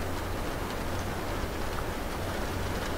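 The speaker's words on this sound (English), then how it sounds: "The rain continued through the night." Steady night rain falls as a dense, even hiss with faint scattered drop ticks, constant throughout and with no talking.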